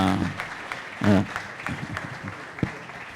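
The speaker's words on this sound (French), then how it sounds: "Vous pouvez applaudir quand même." Brief burst of audience clapping amid a noisy room, with scattered voices and clatter around it.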